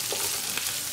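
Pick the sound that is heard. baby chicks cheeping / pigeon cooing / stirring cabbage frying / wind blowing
stirring cabbage frying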